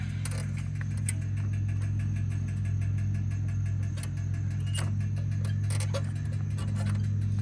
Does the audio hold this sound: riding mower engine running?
yes